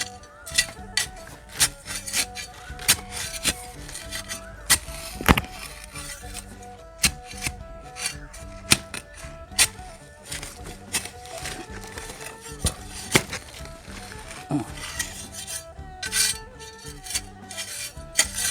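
Rough rasping and scraping of a blade cutting through fibrous coconut tree roots in a garden, with irregular sharp strokes and crunches over a steady gritty rub.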